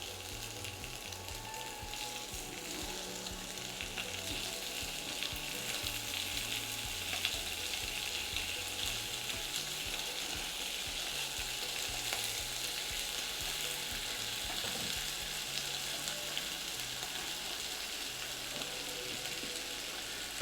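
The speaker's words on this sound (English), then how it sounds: "And we're going to get our bacon going." Four rashers of streaky bacon fry in a pan with a steady, dense sizzle and faint crackle, constant and close throughout with no voices.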